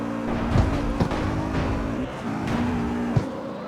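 Audi RS7 racing in the CarX Street video game, a continuous loud engine drone with several quick gear-shift dips and revving, heard alone without talk.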